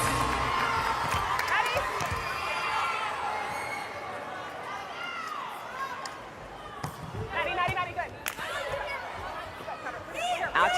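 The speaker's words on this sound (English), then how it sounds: "Crowd loving it here in Houston." Arena crowd noise at a pro volleyball match in Houston between LOVB Houston and LOVB Austin, a steady roar of cheering and chatter with whistles and squeaking shoes, under an announcer's commentary.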